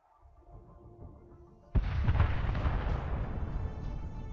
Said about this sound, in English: A second shot is fired from the javelin.